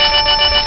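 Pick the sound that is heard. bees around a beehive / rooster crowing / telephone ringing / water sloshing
telephone ringing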